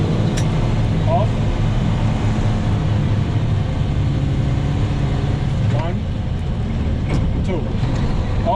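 A truck engine drones loud and steady, its low rumble dipping briefly as the driver eases off the gas and shifts gears, with an instructor's voice talking over it.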